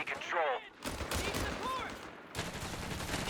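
Dense gunfire crackles in a Shadow War battle, a fast spread of shots that sounds like a fusillade with machine-gun bursts. A short break in the middle is followed by more sustained firing, and game effects sit underneath.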